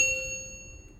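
A single bright notification-bell ding rings out clean and alone, then fades into a short ringing tail.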